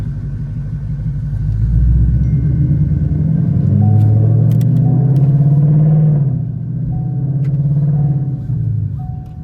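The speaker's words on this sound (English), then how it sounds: "Going for a drive in the 10-speed." A Mustang GT engine with a 10-speed transmission rumbles loudly from inside the cabin, its pitch climbing and dropping as it accelerates through gear changes.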